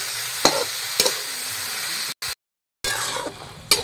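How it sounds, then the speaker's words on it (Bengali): Carrot and tomato chutney with salt and turmeric stirred in a pan: soft sizzling with a few sharp spoon taps against the pan, broken by a short moment of silence. "আর খানিকটা হলুদও দিয়ে দেবো, দিয়ে একটু নাড়িয়ে দেবো"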